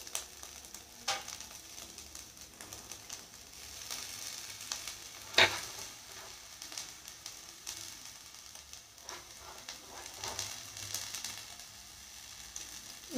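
Egg bhurji cooks in a pan with a soft, low-level sizzle, intermittent stirring scrapes and one sharp metallic clink partway through; quiet and without speech.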